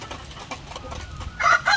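Layer chicken hens cluck softly at close range on a farm, a few short low calls followed by a louder, brighter squawk near the end.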